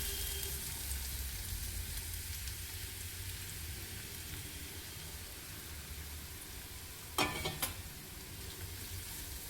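Ridge gourd peels and chopped green chillies fry in hot oil with a steady, close hiss and sizzle, then a brief clatter of stirring near the end.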